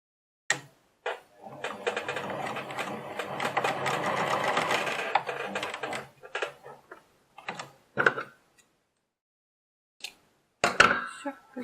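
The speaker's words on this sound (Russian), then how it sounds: "И одну строчку с этого края." A sewing machine runs a steady stitching burst of a few seconds along a seam on a fabric key holder, followed by brief clicks and handling noises at close range.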